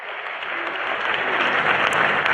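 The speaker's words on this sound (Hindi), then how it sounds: "आपने जो तालियां बजाई हैं" Audience at a mushaira poetry gathering in India clapping, a steady dense wash of applause that holds loud and even from start to finish with no voices over it.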